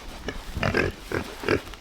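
Backyard pigs grunting at feeding time, four or five short throaty grunts in an uneven rhythm, close by and clear with no talk over them.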